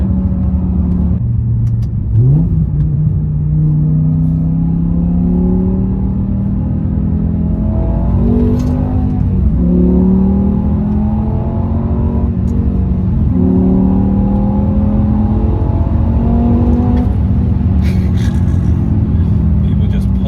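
A BMW M6 with its V10 engine pulls hard on a rainy back-road test drive, the engine note climbing through the revs with shifts between, loud and continuous from inside the car.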